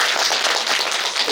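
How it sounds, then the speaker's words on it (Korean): Audience applause in a hall at a film screening and guest talk, a dense burst of many people clapping together, steady and fairly loud, with no talking. "남 잘 될 때 박수 치면 잘 됩니다"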